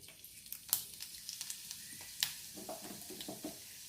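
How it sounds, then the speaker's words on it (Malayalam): Mustard seeds and dried red chillies in hot coconut oil in a cooking pan, a faint low sizzle with scattered sharp pops and crackles. "അതിലേക്ക് രണ്ട് കടുകിടാം കടുക് പൊട്ടിയ ശേഷം അതിലേക്ക് ഉണക്കമുളക് വെച്ചിടാം"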